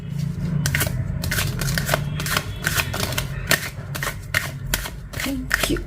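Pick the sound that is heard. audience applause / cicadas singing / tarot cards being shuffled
tarot cards being shuffled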